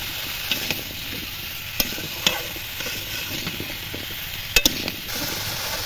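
Fish curry being sautéed with salt and turmeric, made with pond-caught fish, pumpkin and Malabar spinach: a steady close sizzle of frying, broken by occasional sharp scrapes and clinks of a stirring spoon against the pan.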